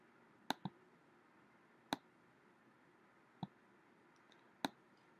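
A computer mouse gives sharp, close clicks in a quiet room: a quick double click, then single clicks spaced a second or more apart.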